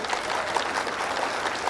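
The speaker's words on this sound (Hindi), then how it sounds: "एक बार जोरदार तालियां ठोक दीजिए" Audience applause at a Hindi comedy poetry gathering (kavi sammelan), a steady wash of many hands clapping with a few sharper claps standing out, no speech over it.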